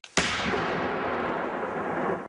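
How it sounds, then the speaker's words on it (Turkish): A single large bomb detonation bursts suddenly, then a broad roaring rumble sustains for about two seconds before cutting off, loud and close, no talking. "terör örgütü üyeleri bomba yapıyor ve daha sonra o bombalar patlatılıyor"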